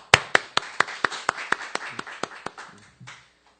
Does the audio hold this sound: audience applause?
yes